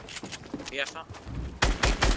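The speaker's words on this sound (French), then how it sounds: "Je me fais sniper par d'autres mecs par derrière." Sniper gunfire in the Fortnite Battle Royale video game: several loud, sharp cracks land close together near the end, after a stretch of game noise and brief talk.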